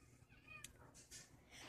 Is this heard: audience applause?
no